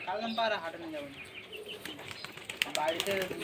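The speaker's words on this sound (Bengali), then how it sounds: "হাত থেকে এত মোটা পায়রা ধরে রাখতে পারছে না, হাত থেকে উড়ে চলে যাচ্ছে" A plump pigeon flutters its wings while escaping a handler's grip, a burst of close flapping over a bird-sale setting, with talk running underneath.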